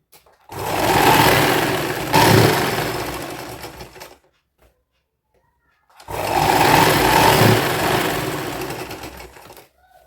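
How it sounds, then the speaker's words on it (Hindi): A sewing machine stitches a bone strip onto a young girl's frock in two steady bursts of motor whir and needle clatter, each lasting about three and a half seconds, separated by a short pause of silence. "पलट के अंदर की तरफ से सिलाई लगाएंगे"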